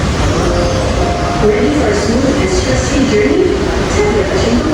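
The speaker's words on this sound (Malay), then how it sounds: "Ini stasiun LRT monorail." A loud monorail train rumbles past nearby at a station in Bukit Bintang, Malaysia, with a steady roar and faint rhythmic clatter, filling the whole clip without pause.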